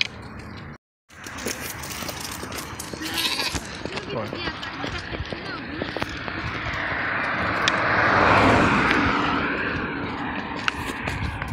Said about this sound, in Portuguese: O rebanho de ovelha.